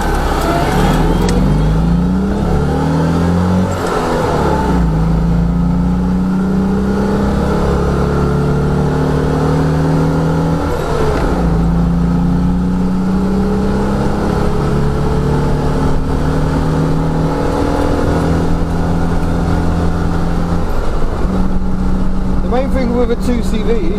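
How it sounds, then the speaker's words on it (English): A Citroen 2CV drives along with its small engine droning and revving steadily throughout, rising and falling in pitch as it is pushed hard, with some talk mixed in over the continuous engine noise. "I think we should go for a drive"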